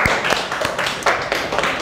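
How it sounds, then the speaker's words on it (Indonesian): A classroom of students claps briefly for a presenting group in a high-school biology lesson, a short burst of scattered hand claps mixed with taps and murmuring voices. "Kita beri tepuk tangan untuk kelompok 4."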